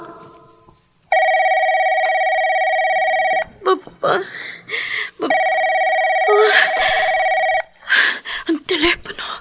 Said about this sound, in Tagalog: Ang telepono.